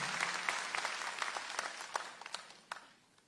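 Applause from an audience at a government ceremony where appointment letters are handed to assistant teachers, clapping spread thin and fairly faint, tapering off over about three seconds.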